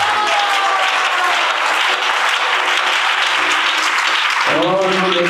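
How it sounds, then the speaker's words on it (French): Loud, sustained applause from a church congregation acclaiming Jesus during a worship service, steady throughout, with a voice or music briefly rising near the end. "On acclame Jésus."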